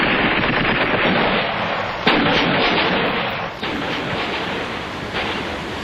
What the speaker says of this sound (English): artillery has to be brought into action against them.